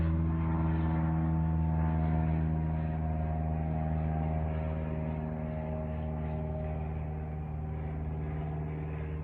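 A droning aircraft engine with a steady low hum and harmonic whine, loud at first and slowly fading as it passes overhead.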